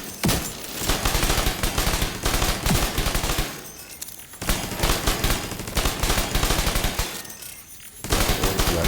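Gunfire in The Division 2 rattles out in loud, dense automatic bursts, three long volleys separated by brief pauses, close and dominant with no talking over it.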